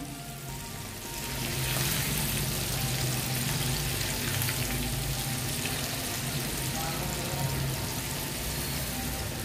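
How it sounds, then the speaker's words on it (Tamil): Potato fries frying in oil until crisp, giving a dense, loud, continuous sizzle that swells after the first second and holds steady throughout. "இது நல்லா கிறிஸ்பி ஆகிற வரைக்கும் நம்ம பொரிச்செடுக்கணும்."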